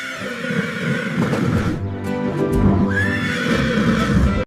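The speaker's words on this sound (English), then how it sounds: "H is for horse." A cartoon horse neighs loudly in a long, wavering whinny that rises and falls, with no speech around it.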